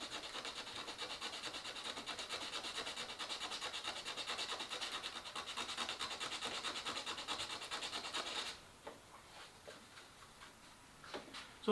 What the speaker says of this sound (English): Just taking some sandpaper, and we're going to sand the paint off all the way down to the metal